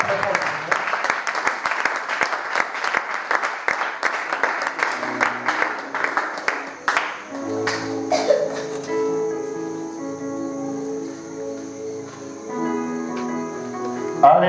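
A church congregation applauds and cheers in praise, dense clapping filling the first half before giving way to sustained singing or music with voices over it.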